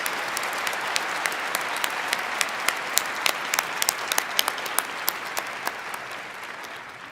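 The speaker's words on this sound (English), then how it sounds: "Let's please give another big round of applause to all our doctoral degree" A university commencement audience applauds doctoral degree recipients, a broad sustained ovation with sharp individual claps standing out and slowly tapering toward the end.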